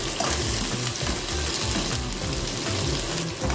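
Onion and garlic sizzle steadily in a hot pan for a mung bean dish, with scraping stirring strokes repeating throughout at close range and no voices.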